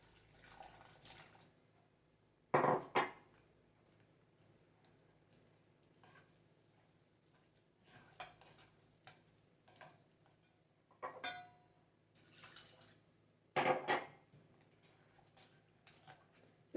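Water poured into a ragi malt mixture and stirred, giving sparse, quiet clinks and splashy scrapes at irregular intervals with a few louder bursts over a near-silent background.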